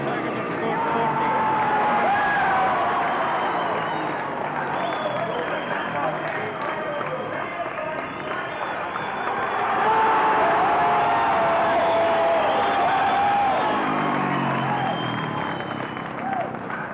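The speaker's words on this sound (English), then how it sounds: "The crowd are thrilled." A speedway crowd roars and cheers continuously and loudly throughout, with a broad, sustained wash of voices, whoops and claps that swells around the middle, while a voice speaks over it.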